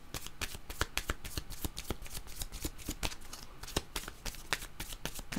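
Tarot cards shuffled by hand in quick, steady riffling bursts, close and fairly loud, with sharp flicks repeating across the whole stretch and no talking.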